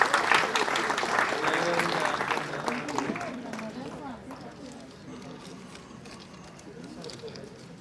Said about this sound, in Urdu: بلند ترین تالیوں میں ان کا استقبال کیجیے گا